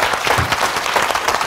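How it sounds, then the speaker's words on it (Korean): An audience at a Korean talk show claps briefly for a couple about to perform, a short burst of dense applause. "박수 한번 보내주시기 바랍니다"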